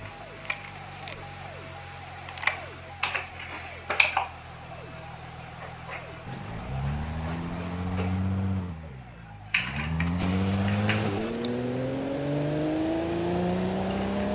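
A car engine in the BeamNG.drive driving game idles with a few clicks, then revs and accelerates through rising gear sweeps, drops briefly on a shift, and climbs again, steady and moderately loud.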